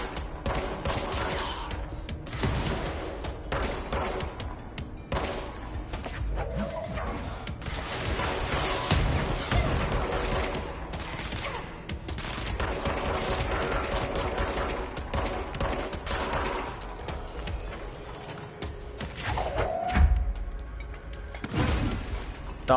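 Grenade launcher fire and heavy combat in the video game Control, with dense overlapping gunfire, booming blasts and explosions running continuously and loudly, including a sharper burst near the end.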